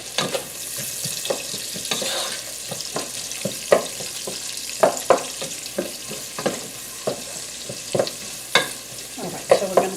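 Onions sizzling in a hot pan for kielbasa and cabbage, with a spatula scraping and stirring in irregular strokes over a continuous frying hiss, fairly close and with no talk.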